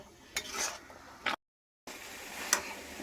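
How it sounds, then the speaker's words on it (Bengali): A mash of drumstick leaves is stirred in a pan while its water cooks off. Faint scraping strokes and soft sizzle come in short bursts, broken once by a moment of silence, with no voices. "এবার নাড়াচাড়া করতে করতে কিন্তু জলটা একদম শুকিয়ে নেব।"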